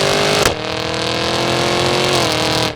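A supercharged 6.2-liter V8 in a 2023 Cadillac Escalade V roars loudly and steadily under hard acceleration, with a brief shift-like break near the start before the engine note climbs again and holds.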